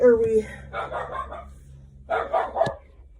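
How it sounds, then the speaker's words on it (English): A dog barks and yips in short bursts indoors, fairly close, in a trailer, interleaved with a person talking. "the dog's being a jerk"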